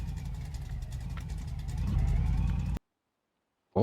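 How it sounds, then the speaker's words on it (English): A car with a newly installed engine pulls away on its first drive, a steady mid-pitched engine note that swells slightly as it accelerates, then cuts off abruptly before a brief burst returns. "Take this thing on its first little maiden voyage since the new engine has been installed."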